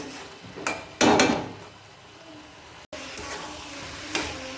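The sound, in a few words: lid placed over a pot of frying ash gourd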